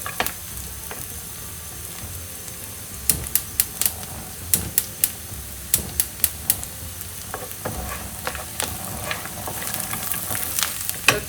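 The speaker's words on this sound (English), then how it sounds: "fry that in the onions" Onions frying in a pan for a duck roast, a steady soft sizzle under irregular sharp clicks and scrapes of stirring that cluster into quick bursts partway through.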